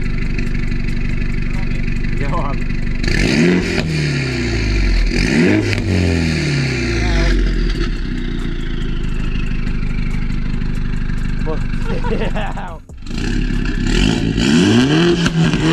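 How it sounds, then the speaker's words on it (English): A 310bhp Mini Cooper S Challenger 210 idles with a steady low rumble, then blips the throttle in several sharp revs that rise and fall; a voice talks over it. "So we're out in the 310 brake Mini Cooper Challenger 210."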